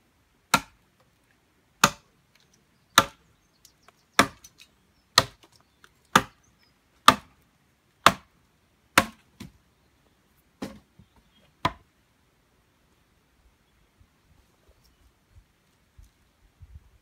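Wood is chopped on a chopping block at a solo survival camp: about eleven sharp, isolated chops spaced roughly a second apart, loud and near, then quiet with faint rustling.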